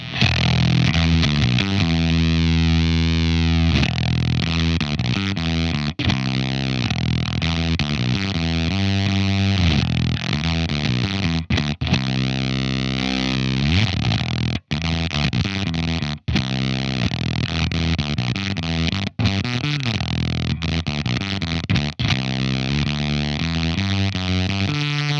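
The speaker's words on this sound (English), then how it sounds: "So once we start to turn that up, we're going to get like more sputtery sounds and more" Zander Circuitry fuzz pedal with its rip control turned up, giving a loud, continuous distorted tone that sputters and glitches, with abrupt dropouts and choppy breaks throughout, no voice.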